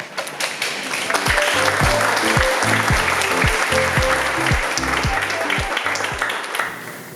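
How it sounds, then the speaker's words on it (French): A large audience welcomes a speaker onstage with loud, sustained applause filling about six seconds, dense steady clapping throughout, with faint voices underneath before it tapers off. "Alors, accueillons Yahav avec un tonnerre d'applaudissements."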